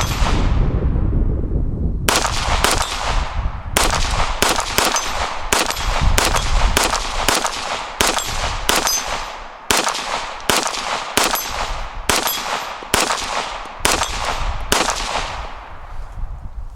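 A CMMG rifle in 4.6 caliber fires at steel spinner targets: about twenty sharp, loud shots in irregular quick succession, each with a ringing metallic impact, after a brief opening stretch of noise.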